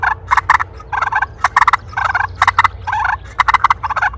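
Loud, rapid bursts of gobbling and clucking from a turkey call, imitating two turkeys squabbling in choppy, overlapping runs.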